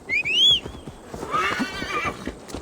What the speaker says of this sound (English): I'm gonna call our horse.